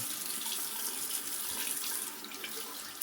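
Tap water runs in a steady, close stream into a bathroom sink as a face is wetted before a shave, with no voices over the even splashing.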